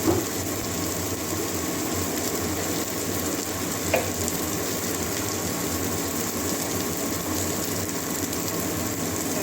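Green chillies and spices sautéing in a pan for a mushroom and potato curry, a steady moderate sizzle with a faint scrape or clink now and then, continuous and close.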